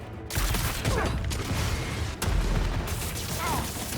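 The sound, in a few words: enemies opening fire in Marvel's Spider-Man 2 video game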